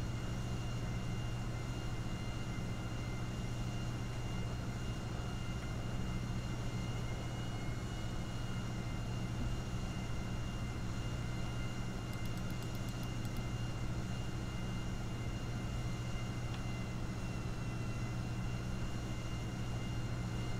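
An airplane engine in the video game GTA 5 drones steadily and evenly throughout, a constant low hum with no talk over it.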